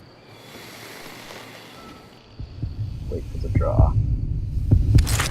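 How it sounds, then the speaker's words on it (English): Heartbeat during a duel in the video game Call of Juarez Gunslinger: a low, rapid throbbing pulse swells in partway through and keeps beating steadily under a voice. "Wait for the heartbeat."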